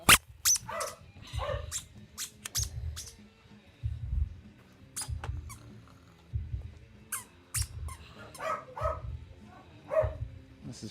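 A puppy barks and yips in short bursts during frisbee play, fairly close, with soft squeaky sounds mixed in and a voice talking intermittently around them.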